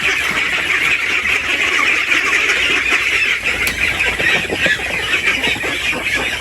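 A noisy flock of geese and ducks on a flood-prone farm honking and quacking together at feeding time, a continuous dense chatter close by with no talking.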